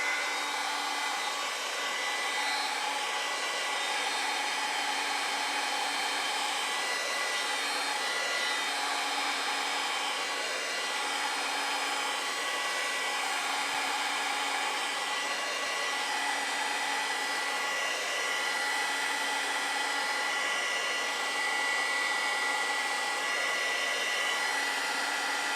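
Hair dryer blowing steadily at close range to dry acrylic paint on a beginner's autumn park-bench painting, a loud, unbroken whooshing roar that holds level throughout with no voices.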